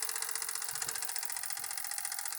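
A Jensen 60EL dual-fuel 110-volt live steam engine runs steadily on a table, a fast, even mechanical chuffing and whirring with a bright rattling hum, close and continuous without any talk.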